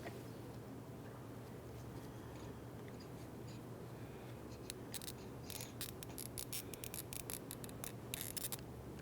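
Plastic locking tabs on a Ford Fusion fuel pump assembly are pried loose with a small tool, giving quiet, close clicks and snaps that cluster toward the end over a faint steady hum.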